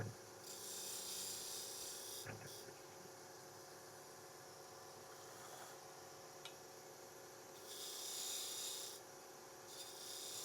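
A skew chisel cutting purpleheart wood spinning on a lathe, with sustained hissing, rasping bursts that start and stop over a low motor hum, close and fairly quiet.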